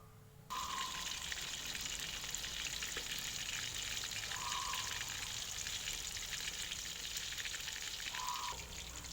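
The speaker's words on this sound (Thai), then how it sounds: "เราใช้เตาถ่านในการทอดนะคะ เวลาทอดก็ใช้น้ำมันค่อนข้างร้อนนะคะ" Marinated young pork ribs fry in quite hot oil over a charcoal stove, giving a steady, dense sizzle that starts abruptly and continues evenly at close range, with a faint tone sounding now and then.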